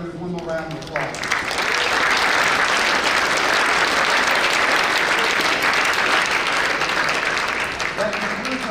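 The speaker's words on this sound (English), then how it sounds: "Let's give all the award winners one more round of applause" Sustained applause from a tennis awards banquet audience for the award winners, a dense wash of clapping lasting several seconds, with a voice speaking briefly at the start and again as it fades.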